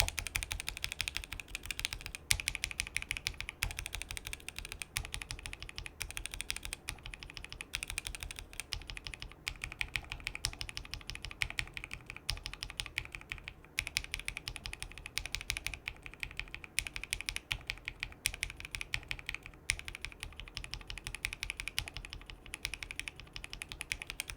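Continuous rapid clacking of Glorious Lynx mechanical keyboard switches, dense and steady typing with no talking.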